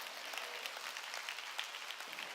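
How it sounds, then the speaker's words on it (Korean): A church congregation applauds during a sermon, a brief, faint wash of many hands clapping heard from a distance. "깨달은 사람만 박수치라고."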